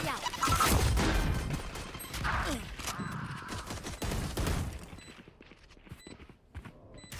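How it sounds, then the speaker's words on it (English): Valorant match gunfire, several sharp shotgun-like blasts and clattering impacts up front, then fading to sparser thuds and light game effects. "Shotgun."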